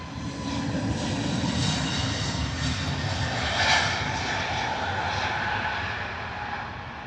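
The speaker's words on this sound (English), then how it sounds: "A321neo heading out to Malaga" A British Airways Airbus A321neo takes off at Heathrow, a broad, steady jet engine roar holding loud and even throughout with a slight swell near the middle, no voices.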